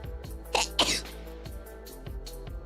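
A single sharp sneeze bursts out twice in quick succession, close and fairly loud, followed by quieter rhythmic background sounds in an indoor setting.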